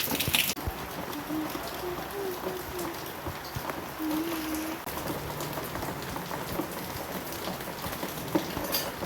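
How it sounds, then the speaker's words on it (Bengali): Heavy rain pours down steadily outdoors, a dense, even hiss of drops striking surfaces throughout, with occasional louder splashes and no voices. "আজকে সকাল থেকে খুবই বৃষ্টি হচ্ছে"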